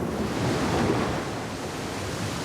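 Steady roar of wind-driven surf in New Zealand, broadband and continuous, swelling slightly early on before settling into an even, rushing wash.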